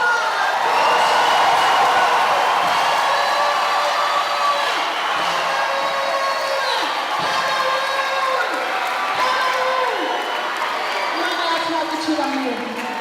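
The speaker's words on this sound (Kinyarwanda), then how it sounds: "dukomere amashyi" Applause fills a Christian Christmas concert hall, a steady wash of clapping and crowd noise from a large audience, with cheering and voices mixed in throughout.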